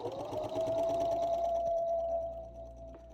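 A sewing machine stitches through a heavy quilt, giving a steady, continuous mechanical whir with a faint rhythmic needle pulse, moderately quiet and heard on its own.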